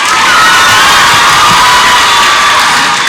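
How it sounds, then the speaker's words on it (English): A large crowd at an eighth-grade graduation ceremony erupts in dense, loud applause and whooping cheers, sustained evenly throughout with no speech. "let's give them a quick round of applause"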